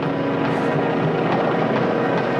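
A small aircraft comes in to land, its steady engine drone loud and continuous throughout with no talk over it.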